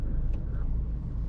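A Peugeot GT Line car moves off at night on city streets, a low, steady engine and road rumble heard from inside the cabin.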